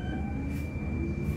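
Metro train running through a Moscow underground line, a steady low rumble with a sustained high tonal whine, close and continuous, with no talk.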